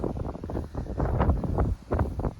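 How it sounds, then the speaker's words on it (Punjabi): Strong wind roars and buffets the microphone in uneven gusts, loud and close, with no voices. "ਹਵਾ ਚੱਲਦੀ ਤੁਹਾਨੂੰ ਸੁਣਦੀ ਹੋਣੀ ਜ਼ਿਆਦਾ"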